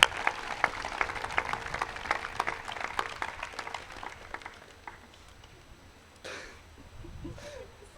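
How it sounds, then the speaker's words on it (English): A high school graduation audience applauds a teacher, dense clapping filling the hall for about five seconds before thinning out to scattered claps and quiet. "let's give a big round of applause to a teacher who has not only inspired me, but countless others too"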